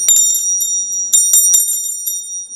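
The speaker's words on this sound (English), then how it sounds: "I had to own a Revenge bell." A small bell engraved with the name The Revenge rings in a series of bright, sharp metallic dings with irregular spacing and lingering tones, close and loud with nothing else heard.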